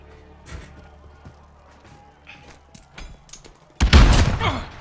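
Gunfire in the Warzone battle royale shooter: quiet scattered game noises and faint bursts build to a loud, dense volley of shots near the end, with no talking.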